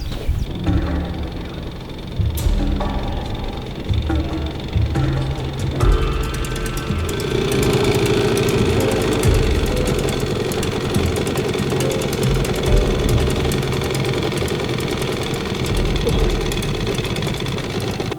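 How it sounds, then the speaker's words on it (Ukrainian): A boat motor drones steadily throughout, with a rough, chugging mechanical rumble that grows fuller after the first few seconds, close and fairly loud. "ми почули теж мотор"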